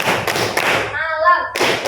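A grade 8 class in a school lesson claps in a clapping game, a burst of many hands followed by a brief voice, then another quick round of clapping.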